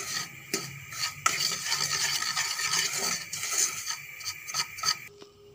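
Semolina roasts in a tablespoon of desi ghee in a pan, stirred continuously with a spoon: dry, gritty scraping and rubbing strokes in an uneven rhythm, close and fairly loud, with no one talking.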